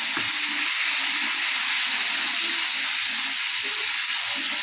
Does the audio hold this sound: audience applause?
no